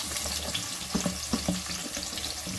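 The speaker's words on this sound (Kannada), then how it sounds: "ಸೊ ಇವಾಗ ಈರುಳ್ಳಿನ ಹಾಕೋತೀವಿ." Onions crackle in hot oil at the start of a pulao, a steady close sizzle broken by a few spoon or pan knocks while they are stirred, with no speech.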